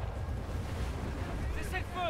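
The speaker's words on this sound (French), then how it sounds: "Oh putain, les vagues!" Ocean waves surge in the video game Battlefield 4 as a low, rushing roar with wind-like noise, steady and fairly loud, with a brief voice-like sound near the end.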